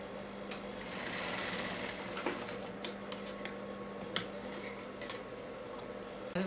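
Sewing machine stitching piping onto a blouse, a steady fast mechanical whir with light ticking clicks, close and moderately quiet, running alone without voices.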